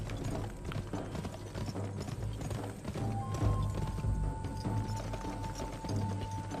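Horse hooves clip-clop at a steady trot in the video game GUN, a dense rhythmic clatter close by over a low rumble, with a faint mechanical whine midway.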